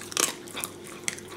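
A toy breed dog chews a raw chicken neck, giving three or four separate close crunching bites spaced across a brief moment.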